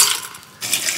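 Ice cubes clatter into a blender jar at the start of a pineapple and mint smoothie: a loud, bright rattle that dips briefly, then a second scattered burst of clinking.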